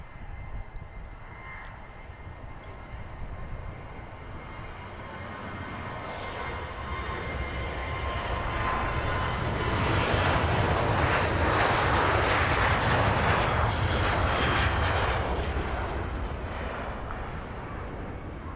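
A KLM airliner takes off at Manchester Airport, its jet roar swelling from a steady rumble into a loud broadband rush that peaks mid-way, then holds and slowly eases as it climbs away.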